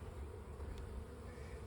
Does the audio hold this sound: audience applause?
no